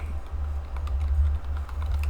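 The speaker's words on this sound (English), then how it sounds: "Damn, I can't type." Typing on a computer keyboard: scattered soft key clicks in quick uneven bursts, close by, over a steady low electrical hum.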